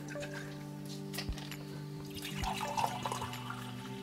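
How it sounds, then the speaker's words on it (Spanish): A cup of water is poured while preparing chicharras in a kitchen, a soft, close splashing and trickling over a low steady background hum, quiet throughout. "a esto le voy a poner por ahorita una taza de agua"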